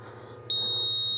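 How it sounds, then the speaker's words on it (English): A drone radio transmitter for an Eachine Novice-IV GPS quadcopter sounds a low RSSI signal warning: a single loud, steady high-pitched beep begins abruptly and holds over a low background hum. "that beep there, that's the RSSI getting low"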